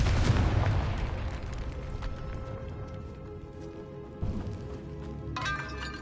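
A Confringo spell blast in Hogwarts Legacy, a heavy rumbling boom at the start that fades into a long low roar with scattered crackles and a brief ringing tone near the end.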